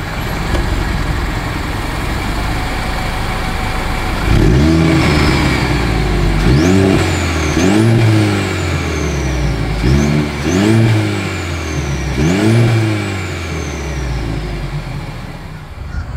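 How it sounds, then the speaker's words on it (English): A 2025 Mercedes-Benz GLC 300 engine revs hard several times in a row through its exhaust, each burst rising to a loud snarl and falling back to a steady idle, close by with no talk. "here is that exhaust clip"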